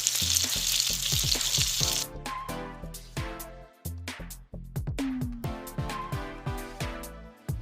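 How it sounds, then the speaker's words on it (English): Salmon pan-searing in a garlic and herb butter sauce, starting with a loud close sizzle that drops after two seconds into rhythmic spoon scrapes and taps with pulses of crackle, no talk. "I am at the tail end of cooking my pan-seared salmon with a garlic and herb butter sauce"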